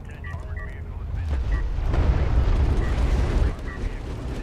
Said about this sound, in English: Cruise missile is launched